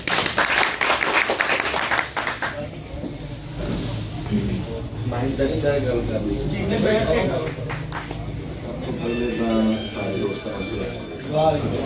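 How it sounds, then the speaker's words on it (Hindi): Scattered clapping from a crowd at a press club dinner rises over the noise of the gathering, with people talking throughout. "भरपूर तालियां नाल"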